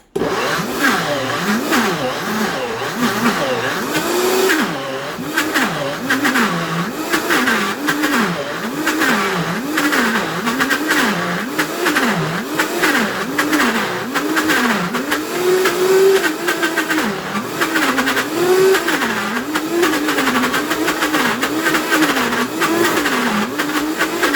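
A food processor churns almonds into almond butter with a continuous mechanical whir. Its motor pitch rises and falls in a repeating wavering cycle as the thick paste tumbles around the bowl, loud and close.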